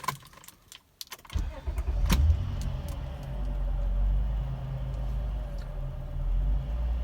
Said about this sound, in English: So now I'm gonna start the car up for you, and we're gonna listen to how the engine sounds.